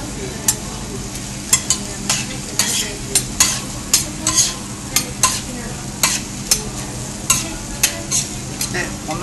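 Monjayaki vegetables and fillings stir-fried on a griddle, with a constant hot sizzle under quick, regular metallic scraping of spatulas, roughly two strokes per second, close and fairly loud.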